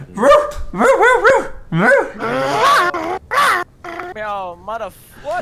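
A person imitates a dog, letting out a string of yappy barks and howling, whining yelps close up, with no other sounds behind.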